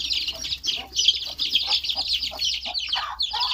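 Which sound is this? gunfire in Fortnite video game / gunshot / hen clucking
hen clucking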